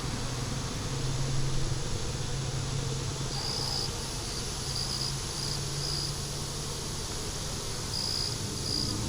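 Honeybees drone steadily around an open hive during an inspection, a dense continuous buzz filling the air with no voices.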